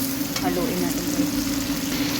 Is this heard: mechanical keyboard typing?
no